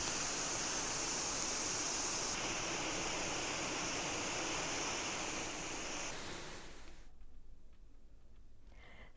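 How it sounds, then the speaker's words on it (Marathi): The Tivare waterfall near Shahapur, a dense, steady roar of rushing water at constant loudness that becomes slightly muffled and lower near the end, with no voices. "असं खास वैशिष्ट्य असलेला बांध तिवरेचा धबधबा पर्यटकांना खुणवू लागलाय"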